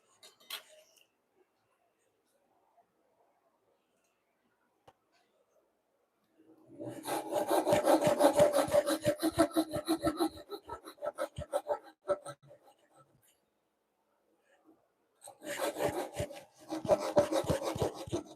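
Wood being chiseled for dovetail joints in a home woodshop, with two long stretches of rapid rasping, scraping strokes, close and fairly soft, separated by near silence.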